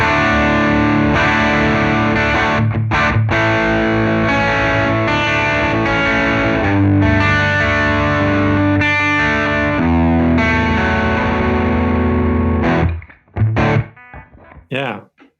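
Electric guitar played through the UA Showtime amp plugin with overdrive added, in drop D tuning: loud, sustained distorted chords and riffs ringing continuously, then cutting out near the end into a few short stabs.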